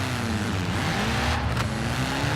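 A motor-swapped car in Forza Horizon 4 revs hard and launches on a dry summer track, its engine note loud and sustained, climbing steadily in pitch throughout.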